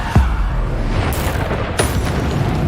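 Bombarda spell explosions in the video game Hogwarts Legacy, a loud, dense combat mix with sharp booming blasts near the start and around the middle over constant rumbling action.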